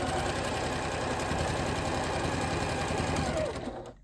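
Sewing machine with a walking foot quilting wavy lines, a fast steady mechanical whir and stitching rattle that runs continuously up close, then winds down and stops, no talking.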